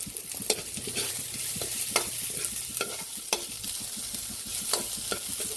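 Chopped onion sizzles and fries in a pan, stirred with steady scraping strokes and sharp utensil clicks over a continuous crackling hiss, close and fairly loud with no talking.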